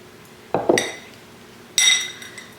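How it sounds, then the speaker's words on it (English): A ceramic bowl clinks twice against a surface as it is set into a microwave: a short clatter, a pause, then a second brighter knock, close and alone. "there's my bowl going into the microwave now"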